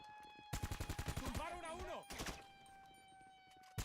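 Video game shootout with rapid bursts of gunfire, a quick run of shots followed by a second short volley, while someone talks over the action.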